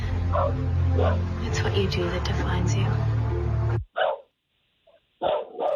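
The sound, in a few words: pit bull terrier mix dog barking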